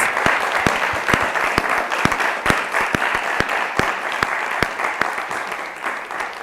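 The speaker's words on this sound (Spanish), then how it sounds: "quiero despedir a nuestros ponentes con un aplauso, por favor." Audience applause sends off the speakers at a panel on the 1968 student movement: a steady crowd clap with several sharp, loud individual claps standing out close by, continuing throughout.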